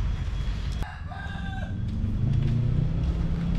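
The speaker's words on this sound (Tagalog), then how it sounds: "Nandito yung manok ko." A rooster crows once, clear and fairly near, over a constant rumbling background of traffic-like noise.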